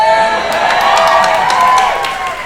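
A crowd cheers and whoops loudly at an evening gathering, a dense burst of excited voices that builds and then tapers off over a couple of seconds.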